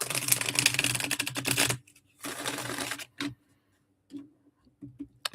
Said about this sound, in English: Let me shuffle one more time.